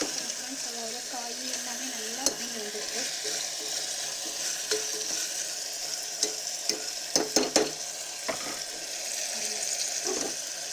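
Vegetables sizzle in masala in a pan for vegetable biryani, a steady frying hiss broken by clustered scraping taps of a spoon stirring, close, with a faint voice underneath at the start.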